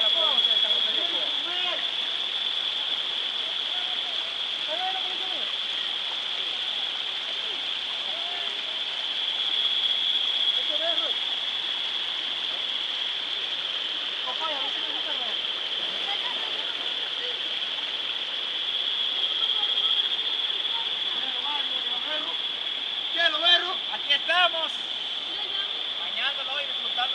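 The Ocoa river in San José de Ocoa flows in a steady, continuous rush close by, while someone talks over it throughout.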